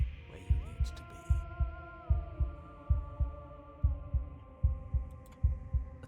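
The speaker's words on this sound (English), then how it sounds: "a wooden and fleshy heart beating with an unbroken rhythm" A wooden, fleshy heart beats in the video game Slay the Princess, a steady rhythm of close, deep double thumps repeating about every 0.8 seconds over a low droning hum.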